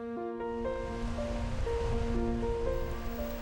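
Wind and waves rush continuously over the sea off Marado island, a dense, steady roar, with sustained musical tones playing over it.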